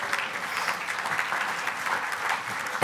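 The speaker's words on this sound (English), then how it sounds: "And I'm going to clap for myself." Conference audience applause at the opening of an annual environmental conference, a moderate, fairly quiet wash of clapping that holds steady and fades slightly near the end.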